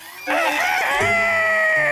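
A cartoon rooster crows once, loud and close, a drawn-out, strongly tonal cock-a-doodle-doo that holds for most of two seconds with no talk over it.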